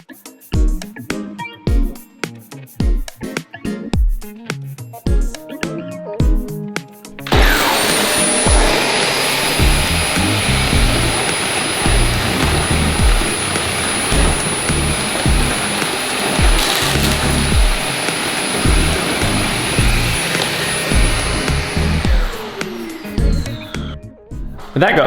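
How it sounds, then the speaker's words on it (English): A power sander runs as a steady, loud, dense whir for most of the stretch, starting abruptly after a run of irregular knocks and handling noises and cutting off near the end. "Sanding time."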